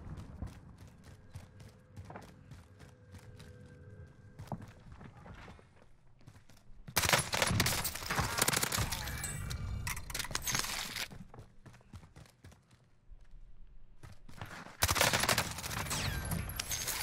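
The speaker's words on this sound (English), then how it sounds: "Oh my gosh, the other one's shooting at you." Rapid gunfire bursts from the video game Warzone, dense automatic fire in two loud stretches separated by quieter clicking and footstep-like taps.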